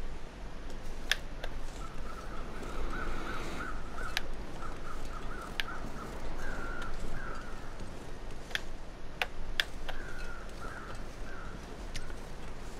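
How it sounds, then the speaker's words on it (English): Crows caw in the wilderness of the video game The Long Dark: a few faint, hoarse calls repeat in a loose pattern over a steady wind-like background, punctuated by sharp clicks. "There's birds heading that direction."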